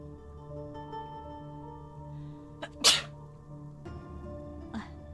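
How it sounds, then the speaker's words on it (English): A single loud sneeze bursts out midway through a story scene from the game Love and Deepspace, standing out sharply over quiet background music with no talk around it. "I feel like I need to sneeze."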